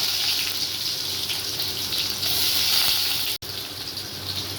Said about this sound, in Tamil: இப்போ கடுகு சீரகம் பொறிஞ்சிச்சு வெங்காயம் போட்டுக்கலாம்